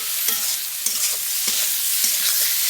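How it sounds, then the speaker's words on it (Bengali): Spice masala with salt sizzles in a pan while a spatula scrapes through it in regular strokes, the frying hiss steady and close with no talking. "লবণটা দিয়ে আর একটু নাড়িয়ে নিচ্ছি"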